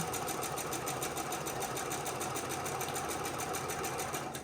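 A sewing machine stitches rows of a nine patch quilt, running steadily and close for the whole stretch with a fast, even mechanical rhythm, alone with no talk.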